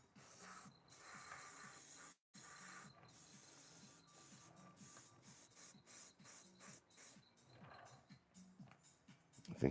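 An airbrush spraying paint onto a Spider-Gwen figure hisses in repeated short bursts, with longer sprays at first, then quicker on-off pulses, quiet and close, with no talking.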